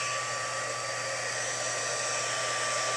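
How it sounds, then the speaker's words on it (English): A heat gun blows hot air steadily to set embossing powder for a craft technique, a loud, even broadband whoosh with a faint hum, running unbroken and alone for the whole stretch. "So I've got my heat gun."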